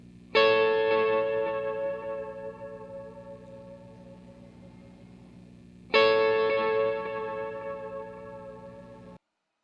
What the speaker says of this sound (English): Delay's the same, add a little bit of reverb, and you just play that high part.